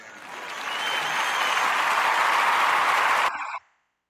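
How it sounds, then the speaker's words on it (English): Vigorous hand clapping rings out in a dense, even burst for about three seconds, then cuts off abruptly and leaves silence. "I was clapping"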